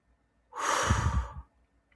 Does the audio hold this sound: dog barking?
no